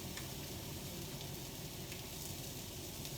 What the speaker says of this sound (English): Get a little sizzle.